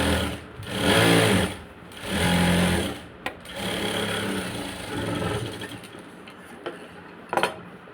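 Sewing machine stitching along a sleeve lining edge, running in several bursts with short pauses and a few light clinks between, close and steady, with no talk.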